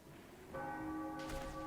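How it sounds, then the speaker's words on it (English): A church bell in the Sniper Elite V2 video game rings out with one clear, sustained toll that follows a brief quiet stretch, heard alone without talk. "There's a church bell."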